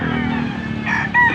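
A rooster crows loudly near the end, over a busy background of clucking fowl and crowd murmur at an early-morning chicken market auction in Angeles, Pampanga.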